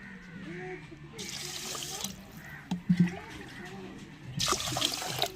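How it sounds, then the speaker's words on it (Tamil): Water pours and splashes over washed biryani rice in a home kitchen, a steady running stream with louder gushes and clinks from the vessel, set for soaking before fish biryani. "பிரியாணி அரிசி தான் களைஞ்சி வச்சுருக்கோம் இப்போ தண்ணி ஊற்றி ஊற வச்சுக்கிருவாங்க"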